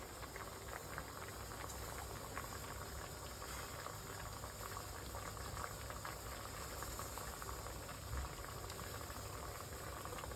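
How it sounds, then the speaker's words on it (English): Water boils in a steamer at a steady rolling bubble, a continuous dense hiss and churn with no talking. "now as you can see, the water is boiling"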